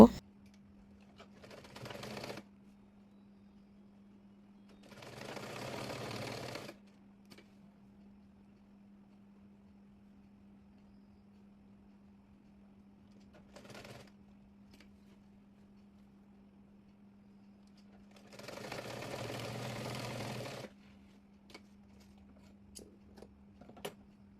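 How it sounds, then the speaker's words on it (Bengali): A sewing machine stitches the ribbon channel of a side pillow cover in a few short, faint bursts of whirring and rattling, separated by long quiet pauses over a steady low hum. "এবার ফিতার ঘরটি মুড়িয়ে সেলাই করে নেব"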